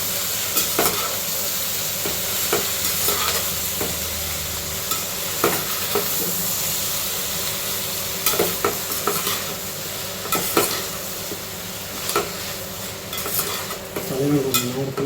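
Watermelon pieces stirred and sautéed in a pan for chutney: a steady sizzle with frequent scraping clicks of a spoon against the pan, close and continuous.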